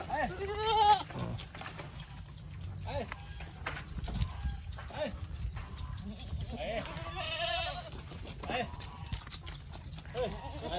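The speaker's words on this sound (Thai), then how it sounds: "เดี๋ยววันนี้จะพาปล่อยแพะเลี้ยงนะครับ" Goats bleat repeatedly at moderate distance as they are let out to graze in a field, with farm ambience and occasional voices talking in the background.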